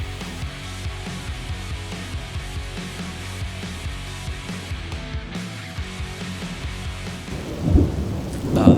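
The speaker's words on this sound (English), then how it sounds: "This rain's wrecking my day." A thunderstorm with heavy rain sounds from outside a workshop, a steady wash of rain with low rolling thunder throughout and heavier rumbles building near the end.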